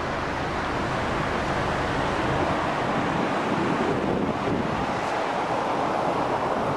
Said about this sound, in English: On Crescent Beach in the sand.